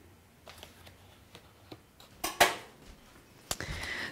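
A spoon taps and scrapes against a cup or jar while a teaspoon of collagen powder is added to golden milk, giving a few soft clinks and one sharper rattle, near and alone.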